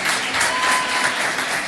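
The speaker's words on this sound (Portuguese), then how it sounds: "Aplauda ao Senhor Jesus." Church congregation applauding during a Portuguese-language worship service, a steady, dense wash of clapping filling the whole short stretch with no voices over it.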